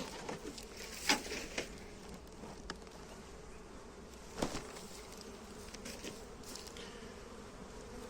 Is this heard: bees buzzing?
yes